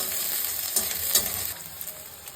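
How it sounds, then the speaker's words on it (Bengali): Continuous sizzling of onions frying in oil, with soft stirring scrapes rising briefly in the first half before settling to a steady hiss. "আগে তেলের মধ্যে পেঁয়াজটা দিয়ে ভেজে নেবো, ভাজতে হবে।"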